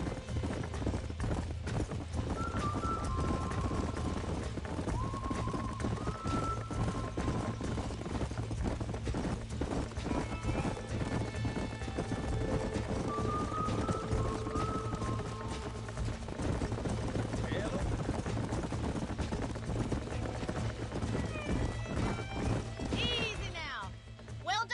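Horses in the Red Dead Redemption video game, with rhythmic hooves clip-clopping steadily and several whinnies and neighs rising above a busy backdrop of music and ranch ambience, with speech at times.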